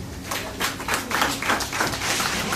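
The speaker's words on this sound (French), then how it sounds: "Applaudissez pour Timothée" A church congregation applauds for Timothée during a sermon, a dense burst of many hands clapping close and fairly loud, continuous for a couple of seconds.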